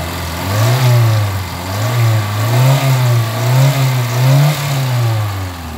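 A Kia Pride engine, running hot after a long run and treated with XADO engine treatment, idles close and loud, then revs in several repeated swells that rise and fall.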